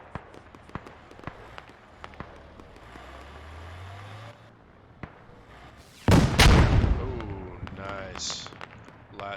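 Gunfire in a military simulation game at a Friday night squad fight, with sharp scattered shots, a sudden loud burst of heavy firing in the middle, and a voice talking over parts of it.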